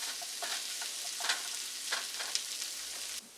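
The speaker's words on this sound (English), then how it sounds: "Now that the potatoes are looking a bit crispy" Potatoes crisping in a pan for a potato omelette give a steady, fairly faint sizzle with a few louder crackles and stirring scrapes, cut off abruptly near the end.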